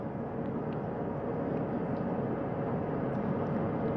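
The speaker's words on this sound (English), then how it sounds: "Helicopter 1 again hovering 40 feet over the front porch." Recovery helicopter hovering about 40 feet above a spacecraft, a steady droning engine and rotor hum that stays even and moderately loud throughout, with no voices.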